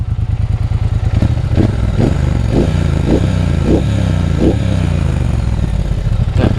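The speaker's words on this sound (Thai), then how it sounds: "ท่อเดิมถือว่าลั่นนะโอเคเดี๋ยวเปิดให้ฟังเสียงกัน" Stock-exhaust 2019 Triumph Speedmaster motorcycle idling nearby, a steady loud throbbing beat with light mechanical clatter and a few regular ticking pulses throughout, no voices.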